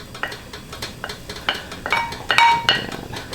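Beef flank with tendon being stirred in a pot of Lao stew, with a spoon clinking and scraping against the metal in irregular knocks over a faint simmer, close and clear.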